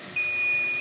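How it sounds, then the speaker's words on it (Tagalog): A product pump low-level alarm on an electrical control panel sounds a steady, high-pitched electronic beep that starts abruptly and holds continuously, clear and close, with no talking. "Tapos nag-a-alarm siya, low level product."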